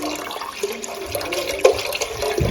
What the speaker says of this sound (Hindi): तो इसके लिए सबसे पहले हमें चाहिए पानी।